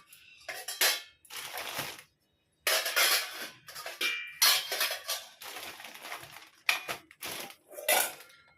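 Metal puja plates and dishes clatter and clink as they are handled and set down, close and fairly loud, in repeated bursts with brief pauses, as utensils are cleaned and arranged the day before a puja.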